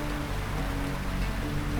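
Steady rain patters in Lightyear Frontier, a soft even hiss with a faint low hum beneath and no voices.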